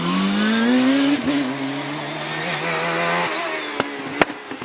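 Tricia's Reynard race car climbing the Prescott hillclimb during a Midland Hillclimb Championship round, its engine loud and close, rising in pitch under acceleration, easing briefly, then pulling hard again with sharp pops near the end.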